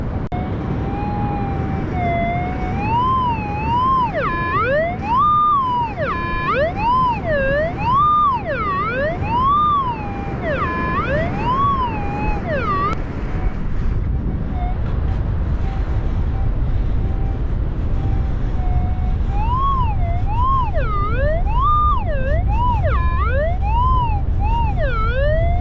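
Beach metal detector emitting a loud warbling, wavering electronic tone that rises and falls repeatedly as it signals a target, steady throughout with no talking.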